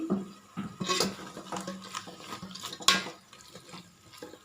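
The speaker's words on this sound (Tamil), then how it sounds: "மூணு தக்காளி போட்டிருக்கேன் எல்லாம் நல்லா வதங்கணும்" Three tomatoes are sautéed in a pan for chicken biryani, with a utensil scraping and stirring in irregular strokes over a soft sizzle and occasional metallic clinks, heard close with no speech.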